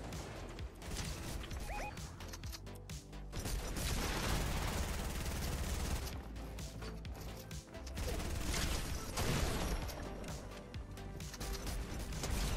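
Gunfire from a gun in the video game Fortnite, rapid repeated shots in loud bursts with game effects and mechanical clatter, steady and dense across the whole stretch.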